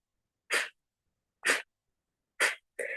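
A person does a forceful breathing exercise, pushing out sharp, sneeze-like bursts of air through the nose. Three short blasts come about a second apart, a fourth follows quickly, and each is loud and close with silence in between.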